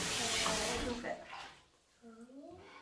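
Tap water running into a bath, a loud steady rush at first that fades to a quieter trickle, with voices talking over the latter part.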